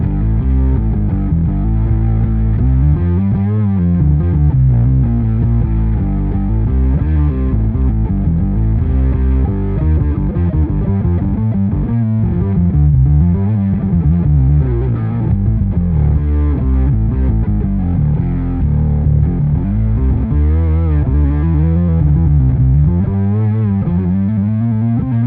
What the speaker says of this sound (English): A distortion pedal is great for one, cutting through the mix.